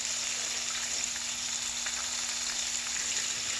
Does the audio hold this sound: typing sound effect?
no